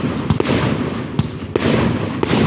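Fireworks burst over Saltford in loud, close bangs, a few sharp reports landing on top of a continuous crackling rumble.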